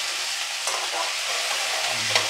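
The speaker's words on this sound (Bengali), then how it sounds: "আমি সবজির মধ্যে মুগ ডাল যে ধুয়ে রেখেছি সেটা দিয়ে দিলাম।" Chopped vegetables and washed mung dal frying in a pan for foxtail millet khichdi, a soft, even sizzle with a few light scrapes of stirring, heard alone with no voices.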